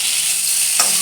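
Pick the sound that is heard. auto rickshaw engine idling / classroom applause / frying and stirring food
frying and stirring food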